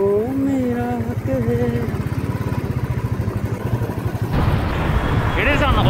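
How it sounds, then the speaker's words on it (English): Royal Enfield Bullet motorcycle ridden through city streets, its engine thumping in a fast steady pulse under a person talking, with traffic noise rising toward the end. "It is an awesome experience riding bullet for the first time"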